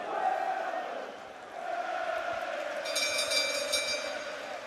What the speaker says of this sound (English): people are standing up and cheering